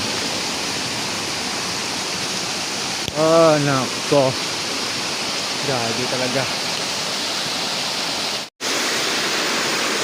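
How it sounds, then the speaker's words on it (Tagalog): Rushing floodwater from overflowing canals and creeks after a night of heavy rain roars in a steady, loud wash across a flooded road, while a person speaks briefly twice over it. "Napakalakas po ng tubig"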